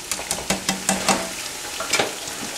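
Spices for mutton biryani sizzle and fry in a pan, with repeated stirring scrapes and clinks over a steady frying hiss, close and alone.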